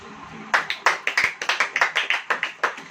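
A church congregation claps in a steady rhythm during a Hindi worship sermon, about a dozen sharp, evenly spaced claps in sequence, close and fairly loud with no talking over them.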